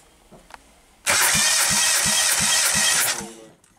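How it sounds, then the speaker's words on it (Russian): A 2006 Hyundai Elantra's 1.6 G4ED engine with 204,000 km cranks on the starter during a compression test, a loud steady whir with rhythmic compression pulses for about two seconds, then it winds down. "Замер компрессии двигателя."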